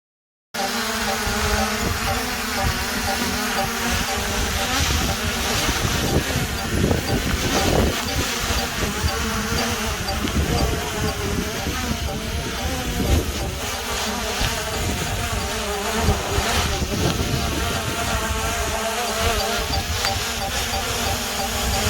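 DJI Mini 3 Pro drone flying in high wind, its propellers giving a steady insect-like buzz and whine mixed with gusting wind noise on the microphone, continuous and fairly loud throughout, no talking.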